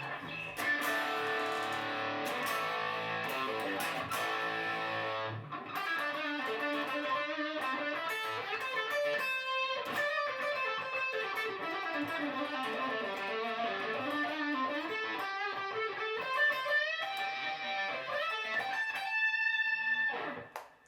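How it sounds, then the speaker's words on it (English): Electric guitar, an upgraded Stratocaster through a distortion pedal, plays chords and melodic runs with a crunchy tone continuously, close and fairly loud, with a brief pause near five seconds. "I'll kick on a distortion pedal real quick so you can kind of hear a little bit"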